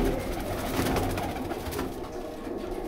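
Salara pigeons cooing in a soft, continuous murmur from several birds at once, steady and close, with no voices.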